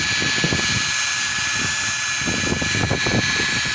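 A handheld power tool spins at about 1,000 RPM during an auto care product test, giving a steady, fairly loud whirring drone with no talking.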